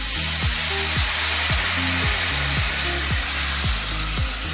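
A pan of pork tenderloin drippings is deglazed with red wine, giving a loud, continuous sizzle with a repeated low rhythmic scraping beneath it, close up and without speech.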